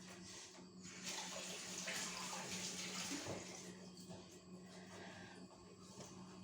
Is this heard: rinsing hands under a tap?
yes